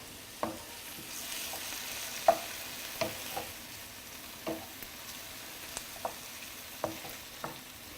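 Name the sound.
mashing tomatoes in a pan with the back of a spoon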